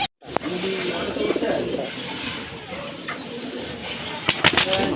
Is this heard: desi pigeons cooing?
yes